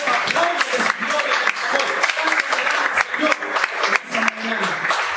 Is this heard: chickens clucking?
no